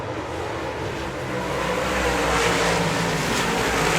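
Dirt track race cars roar around an oval at a Manitoba speedway, a broad, distant engine wash that swells gradually as the pack draws nearer.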